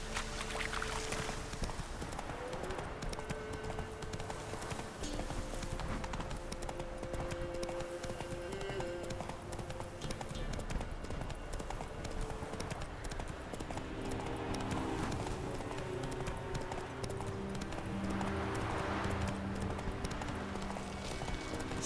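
Horse hooves clip-clopping at a steady galloping rhythm in the video game The Witcher 3, continuous throughout under game music, with no speech.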